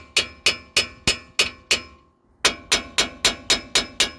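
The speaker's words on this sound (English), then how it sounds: "Use a carpenter hammer. Bang, bang, bang, bang, bang, bang." A carpenter hammer strikes a ball joint on a 2001 Dodge Ram 1500 pickup: sharp, ringing metallic blows in a regular rhythm, about seven, a brief pause, then another six or so.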